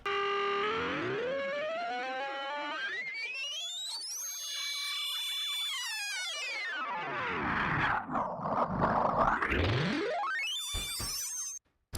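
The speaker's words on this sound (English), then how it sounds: "I was using Complex Pro, which imparts a really distinct smeared granular texture to it" A sample is pitch-shifted with Complex Pro warp mode, its tones gliding steeply up, then down, then up again, with a smeared, granular, roaring texture, before a brief stuttering burst and an abrupt cut to silence.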